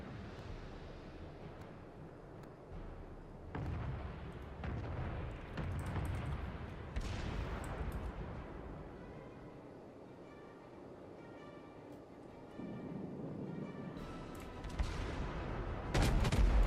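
Naval turret fire from the battleship Kaiser in World of Warships on the New Dawn map: scattered deep booming salvos, faint and distant, against a low rumbling background, with no talk.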